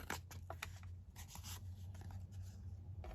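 Paper being trimmed along an edge while making double bookpage pockets, soft faint snips and scratchy rubbing strokes in quick irregular bursts, close and quiet.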